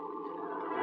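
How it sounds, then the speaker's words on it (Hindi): A dog howls in a drawn-out, mournful wail, one sustained, steady cry that holds for the full moment, fairly clear and close with no talking over it. "तेरा कुत्ता रो रहा है।"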